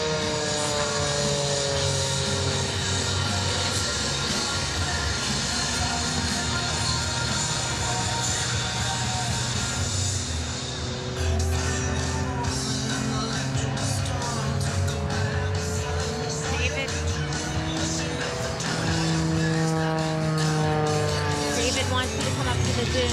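An Edge 540 aerobatic propeller airplane roars throughout at an airshow, its engine pitch sweeping up and down as it maneuvers, with a voice talking over it.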